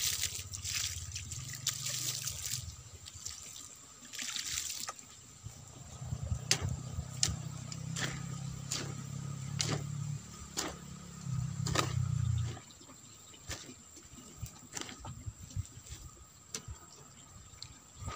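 Water poured onto a cement and soil compost mix, a steady trickling pour running in a few bursts over the first twelve seconds, then quieter handling noises with no talk.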